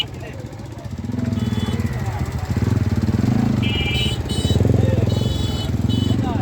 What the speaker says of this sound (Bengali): ট্রাফিক জ্যাম পড়েছে।